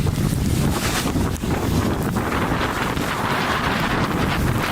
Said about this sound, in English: a huge gust of wind suddenly lifted him off his feet and pushed him into the sky